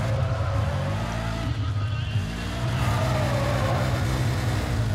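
Car drifting with tire squeal in Need for Speed ProStreet, engine roaring steadily under a wavering screech of skidding tires, loud and close throughout.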